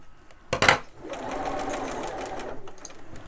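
A sewing machine runs in one steady burst of rapid stitching through fabric, close and clear, beginning after a short clatter and stopping near the end; no one talks.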